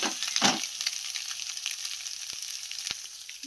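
Eggs fry in a pan with a steady, close hiss and crackle of hot oil, with a brief bubbly burst near the start and a couple of sharp clicks later, and no voices.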